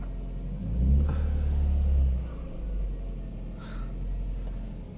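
A car engine is started with a key, cranking into a low rumble that swells briefly and then settles into a steady idle, fairly close and alone.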